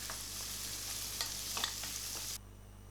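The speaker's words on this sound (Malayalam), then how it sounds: "ഓയിൽ ചൂടാകുമ്പോൾ അതിലേക്ക് 100 ഗ്രാം സവാള അരിഞ്ഞ് ചേർത്തിട്ട് ഒന്ന് വഴറ്റണം." Chopped onions, about 100 grams, sautéing in two tablespoons of hot oil in a pan for tricolour pulao, giving a steady close sizzle with light stirring scrapes that stops abruptly near the end.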